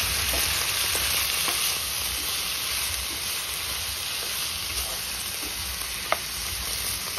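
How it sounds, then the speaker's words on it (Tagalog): Chicken pieces sizzle and fry in a pan while being stirred for ginataang sigarilyas, making a close, steady crackling hiss with occasional clinks of the utensil. "Halo-haloin lang natin yung ating chicken hanggang sa ito'y medyo maluto ng konti"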